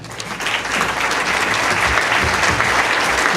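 A crowd at a San Pedro future leaders event applauds to welcome a speaker, clapping that swells over the first half second and then holds loud and dense.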